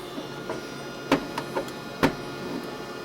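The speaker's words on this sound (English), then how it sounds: "Still doing a self-test." A Samsung ML1430 compact laser printer runs its self-test with a steady mechanical hum, broken by two sharp clacks and a few lighter clicks and whirs, heard alone at close range.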